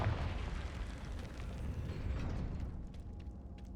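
Confringo blasting-spell explosion in Hogwarts Legacy, a deep rumbling boom that fills the whole clip at steady loudness, with fiery crackle fading a little toward the end.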